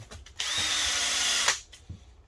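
A power drill fitted with a foam polishing pad, used on a gen 7 Toyota Celica headlight, whirs loudly and steadily for about a second before spinning down, with faint handling knocks around it.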